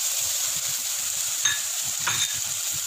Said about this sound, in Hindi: टमाटर इसमें डाल देंगे।